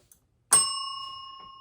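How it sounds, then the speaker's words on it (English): A single bell strike rings out clearly after a brief silence and decays slowly with a sustained metallic tone. It sounds alone, with no talking. "that, as we know, is the homework bell"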